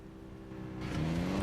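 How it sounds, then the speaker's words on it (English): In a Need for Speed game, a Mitsubishi Evo with a 4G63 engine revs up fairly faintly, its tone rising and swelling over a brief second and a half. "4G63 isn't the most amazing sounding engine in the world, but it makes some tunes."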